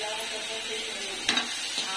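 Steady sizzling of spices and chillies frying in hot oil for a Punjabi tadka, with a couple of brief stirring clatters near the end.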